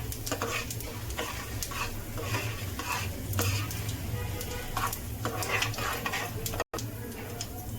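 Chana dal sizzles in a hot oil tempering for sambar, a steady close crackle and hiss with light stirring clicks throughout.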